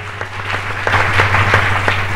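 A church congregation applauds during a sermon by Pastor Victor Kakese, a steady wash of clapping that builds slightly over about two seconds, with a low constant hum underneath.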